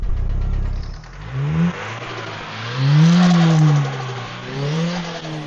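A drift car's engine sits at idle after a tune, then revs up in a couple of rising and falling bursts. The engine is loud and close, with a slightly ticky idle between the revs.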